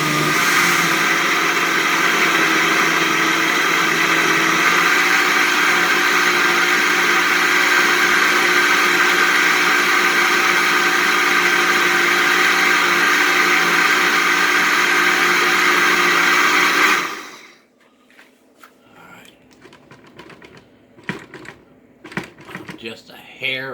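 Blender pureeing cooked mulberries for jam, a loud, steady motor whir running close for about seventeen seconds, then cutting off into scattered light clatter and knocks.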